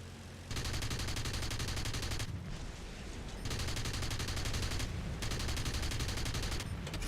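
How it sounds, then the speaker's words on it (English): Rapid aircraft strafing gunfire in War Thunder, loud continuous bursts of several seconds each, separated by short pauses, with no talk. "Oh, no, I can still strafe."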